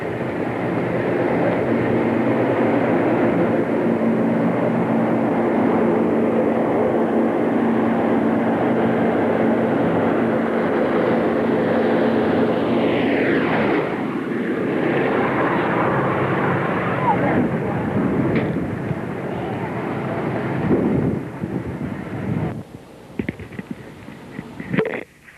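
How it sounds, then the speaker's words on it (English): A Boeing B-17 bomber flies low overhead in a loud, rumbling, continuous engine roar that sweeps past near the middle, then fades under wind buffeting and handling noise toward the end. "in just a minute, the B-17 is going to peer over the rise again"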